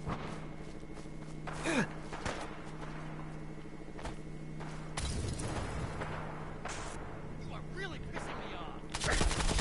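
Gunfire in Fallout 4, scattered shots and short bursts at moderate distance over a steady game hum, with a louder burst near the end and someone talking in between.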